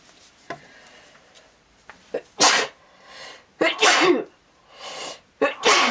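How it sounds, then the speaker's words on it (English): Several sharp sneezes burst out in quick succession, loud and close, with small clicks and rustles between them. "Oh, sorry, I had to sneeze."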